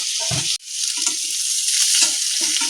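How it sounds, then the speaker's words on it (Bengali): Potato and pointed gourd fry in a pan with a bright, continuous sizzle, broken by a brief gap and then scattered scraping, stirring knocks close by. "ভালো মতো করে আলু আর পটলটা ভাজা ভাজা হয়ে গেছে"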